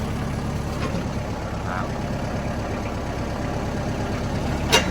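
A Kubota-style M5000SU 50 hp tractor engine runs steadily under load, a continuous low diesel chug at even loudness throughout, with a faint brief sound near the end.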